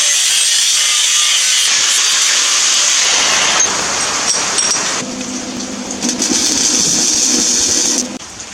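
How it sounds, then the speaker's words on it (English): A drill bores holes in a steel bottom plate for a homemade John Deere boat motor mount, giving a loud, sustained high-pitched grinding whine that shifts in tone partway and stops abruptly near the end. "Now I'm going to drill the holes in this bottom plate."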